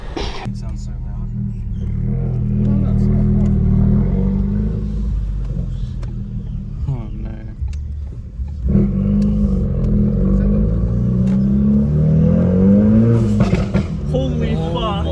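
Loud modified Audi RS car engine revving hard near a driveway, a deep rumbling roar that swells and climbs in pitch, with a brief lull midway and an excited voice speaking over it.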